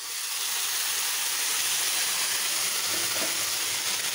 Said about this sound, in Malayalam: അരി കുറച്ച് വറുത്ത് കഴിഞ്ഞിട്ട് ഇതിലേക്ക് ആവശ്യത്തിന് വെള്ളം ഒഴിച്ച്